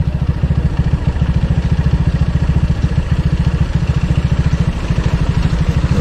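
A truck on the road rumbles close by with a rapid, regular chugging engine pulse, loud and steady throughout with no voices.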